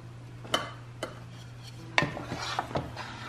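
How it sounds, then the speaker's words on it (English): A spoon stirs spaghetti sauce with meatballs in a pot, giving a few sharp clinks and scrapes against the metal over a low steady hum, close and alone with no talking. "I'm going to give it a good stir again"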